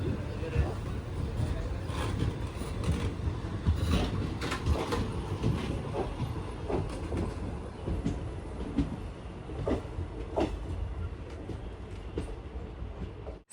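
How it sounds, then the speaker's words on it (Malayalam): An intercity train runs through Kerala toward Kasaragod and Mangalore. Its wheels give a continuous rumble with a steady clickety-clack of carriages over the rails. "ഈ ട്രെയിനിന് കാഞ്ഞങ്ങാടും കാസർഗോഡും മാത്രമേ സ്റ്റോപ്പുള്ളൂ."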